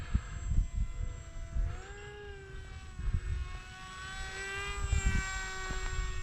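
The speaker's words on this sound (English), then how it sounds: "look at the plane just moving around so much." A Dancing Wings 600mm Mini Rainbow model airplane flies overhead, its small electric motor and propeller whining in a steady tone that rises and falls as it maneuvers, with wind buffeting the microphone.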